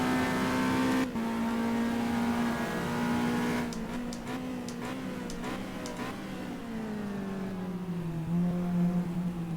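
A race car engine revving hard in GTR2 at Monza during a WEC 2015 endurance race, a steady loud high-rev drone that dips under braking and climbs again through the gears, heard alone.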